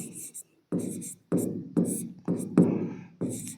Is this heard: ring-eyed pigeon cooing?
no